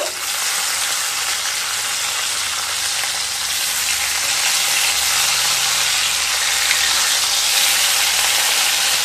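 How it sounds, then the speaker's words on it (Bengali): Katla fish turned over and frying on its second side in mustard oil in a kadai, giving a loud, dense, unbroken sizzle that holds steady throughout with no talking. "এইভাবে দুটো সাইড খুব ভালো করে ভেজে নেব।"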